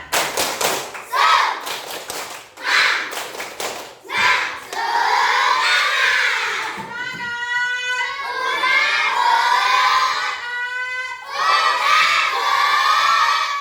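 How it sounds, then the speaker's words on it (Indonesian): A group of Indonesian schoolchildren in a classroom claps in quick sharp bursts, then shouts and chants together loudly in a lively, rhythmic call. "kita nyanyi dulu tepuk semangat. Tepuk semangat."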